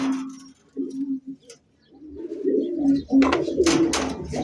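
Rajgolla pigeons cooing close by, several low throaty coos in short broken phrases with pauses, followed by a fuller burst of cooing mixed with brief higher chirps.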